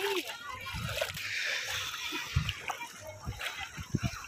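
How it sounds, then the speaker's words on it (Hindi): People bathe in shallow river water, splashing and sloshing with intermittent slaps and bursts close by, while children and adults chatter over the water noise. "सब नहा रहे आराम से। यार बहुत कम पानी है"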